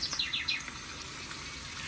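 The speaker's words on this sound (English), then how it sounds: "Even the birds is laughing and having fun." Bird chirps and tweets play from a TV, a quick series of high calls at the start that fade into a steady hiss of background noise.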